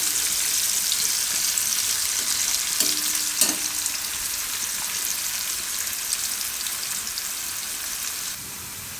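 Carrots frying in a pan for a Gujarati carrot and spinach dish give a steady loud sizzle throughout, with a brief clatter of stirring partway through and no talking.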